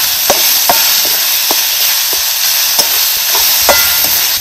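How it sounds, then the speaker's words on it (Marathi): Softened onion and tomato roast in an oily pan for Satara-style misal masala, a continuous loud sizzle and hiss broken by regular scraping clicks of a spatula stirring, close up with no talk. "असं बघा हे आपलं मऊ असं का नाही कांदा आणि आपलं टोमॅटो मस्त असं आपलं भाजून झालेलं आहे"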